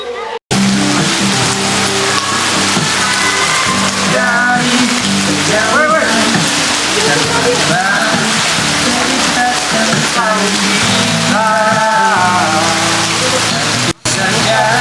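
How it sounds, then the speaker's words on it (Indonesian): Heavy rain falling outside, a loud, steady wash throughout, with music and voices layered over it indoors. "di luar hujan gede banget"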